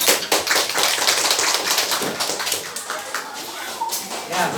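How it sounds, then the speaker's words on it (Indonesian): A class of students claps together in a classroom, producing dense, rapid, continuous hand claps that taper off slightly toward the end. "Jelas ya, tepuk tangan dulu lah."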